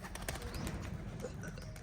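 Pigeons set loose from a Punjabi loft, a high-flying Shah Kabootri among them, with soft cooing and faint fluttering over a steady outdoor background hum, continuous and fairly quiet.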